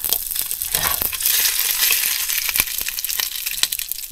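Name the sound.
frying leftover fish and squid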